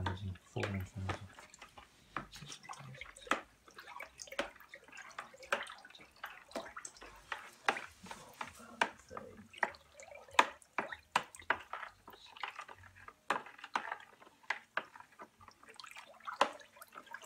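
Home-brew White Zinfandel wine kit liquid stirred in a container, with repeated soft sloshes and drips in an irregular rhythm, fairly quiet, while a person counts aloud.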